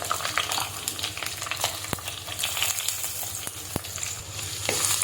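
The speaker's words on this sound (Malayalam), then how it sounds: "കുഞ്ഞുള്ളിയും ഇഞ്ചിയും വെളുത്തുള്ളിയും ഒക്കെ ചേർത്ത് ഒന്ന് വഴറ്റിയെടുക്കാം." Shallots, ginger and garlic sautéing in a pan, a continuous close sizzle with occasional sharp stirring scrapes and clicks, no speech.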